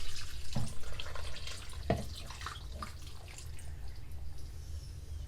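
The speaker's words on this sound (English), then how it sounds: "And with the water, all you want to do is put in just enough that everything is covered." Water poured into a slow cooker holding chicken and vegetables for chicken and dumplings, a close, steady splashing pour with a couple of sharper knocks early on and no talk.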